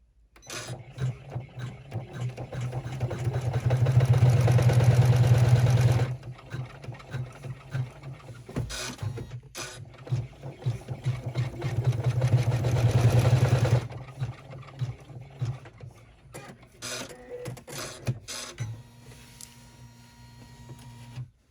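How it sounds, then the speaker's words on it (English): An embroidery machine stitches a tack-down on a mini rucksack pocket in the hoop, a close mechanical whirring patter that swells into two louder sustained runs with quieter stretches between. "we're going to run step 15, which is going to tack this side of the pocket down"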